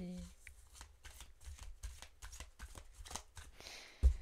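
A deck of cards being shuffled and cut, with a steady run of quick soft riffles close by and a sharper tap as the deck is squared at the end.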